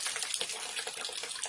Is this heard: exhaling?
no